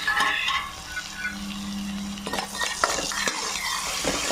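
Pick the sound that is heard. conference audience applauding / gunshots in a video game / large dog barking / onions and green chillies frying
onions and green chillies frying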